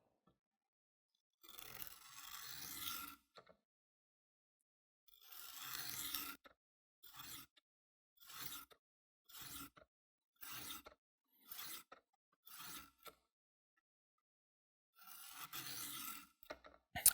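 Sharpening strokes of a knife blade along a stone, a run of about ten short rasping scrapes with brief pauses between them, close and clear with no talk.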